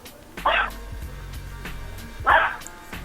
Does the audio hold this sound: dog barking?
yes